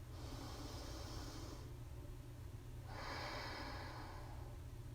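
Two slow, airy breaths taken during a yoga exercise, each a soft hissing inhale-exhale lasting a second or two, separated by a short pause, close and quiet with no talking.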